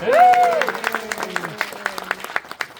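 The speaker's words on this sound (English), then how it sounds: "Let's give him a round of applause" Audience applause at a gunfight show in Tombstone, Arizona, rising as clustered claps beneath a sustained voice at the start, then thinning into separate claps from a small crowd.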